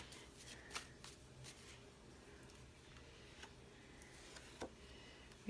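A deck of tarot cards being shuffled close by, soft riffling and flicking bursts with a couple of sharper snaps, quiet overall with no talk.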